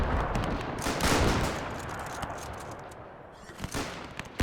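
Gunfire and artillery from the WW1 strategy game Between Empires: dense crackling volleys and sharp bursts, loud at first, then thinning to scattered shots and a final blast.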